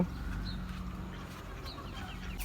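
Chickens in a rooftop coop, including a rooster and hens, give a few soft clucks and short calls over a steady low background hum, close but not loud.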